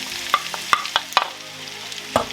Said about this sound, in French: Dès qu'il mousse dans la poêle, on va y mettre les pommes.